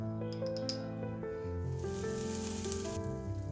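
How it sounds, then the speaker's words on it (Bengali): Dried red chilli, fennel seeds and bay leaf hit hot mustard oil in a home kitchen, and a bright hissing sizzle swells midway and holds steady under tonal background music. "শুকনো লঙ্কা, মৌরি আর তেজপাতা ফোড়ন দিলাম"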